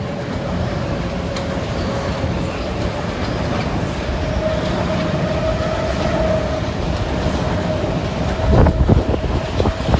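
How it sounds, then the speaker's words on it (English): A Metro-North commuter train pulls out of Scarborough station bound for Grand Central, a loud continuous rumble of rolling railcars with wind buffeting the microphone and a clattering burst near the end. "Leaving Scarborough is train 772 for Grand Central at 4:29."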